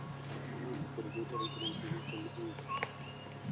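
Boubou calling on an African safari drive at sunrise, a short series of faint whistled and clicking notes mixed with other birdsong over a steady vehicle and outdoor hum.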